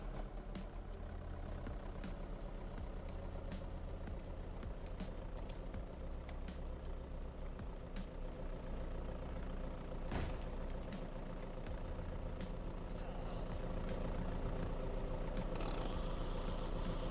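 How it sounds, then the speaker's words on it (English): A truck engine in the zombie game VEIN running at a steady idle, a low continuous rumble with faint clicks and one sharp knock partway through. "we just freaking started up the truck and a bunch of zombies heard it"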